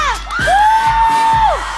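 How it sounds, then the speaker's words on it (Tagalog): A game show studio audience yells and cheers in one sustained, loud crowd shout, with a host's voice rising above the noise. "Kaya naman dapat sumigaw muna!"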